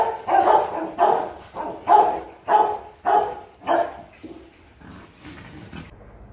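A female Rottweiler barking: six loud, evenly spaced deep barks close by, then a few softer, shorter ones trailing off, with no voices.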